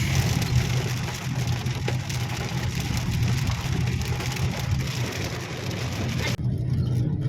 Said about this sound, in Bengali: অল্প বৃষ্টি পড়ছে